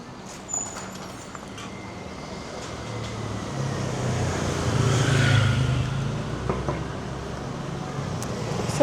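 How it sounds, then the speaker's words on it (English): Continuous road traffic rumbles from inside a moving vehicle, with a car swelling louder as it passes midway, then fading back. "Check out traffic on the way."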